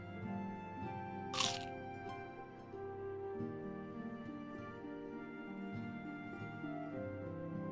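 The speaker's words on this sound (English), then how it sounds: "you guys want to hear the crunch of shrimp tempura real quick?" Shrimp tempura bitten once, a single short crisp crunch near the start standing out over steady background sound, with a faint sense of chewing afterward.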